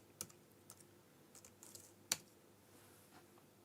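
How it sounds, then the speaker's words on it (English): Typing on a computer keyboard, a quiet, sparse run of soft key clicks with one sharper tap near the end, close by in a calm room. "I have to be really careful I don't sit and type passwords while you see me typing the passwords."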